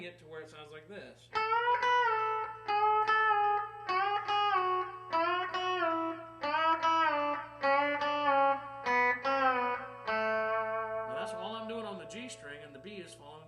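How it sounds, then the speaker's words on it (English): A country electric guitar plays a run of bent notes, the strings pushed up to add a harmony note above the melody, sustained and close with a light effects tone and a final wavering bend. "Now what I'm doing is I'm bending it to where it sounds like this."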